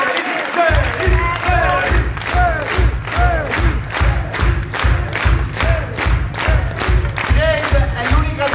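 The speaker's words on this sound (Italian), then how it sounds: "Ancora un altro applauso." Crowd at a live metal concert in a club cheering and clapping, with shouts and whoops rising over a steady rhythmic thumping beat, loud and close throughout, with voices calling out in the mix.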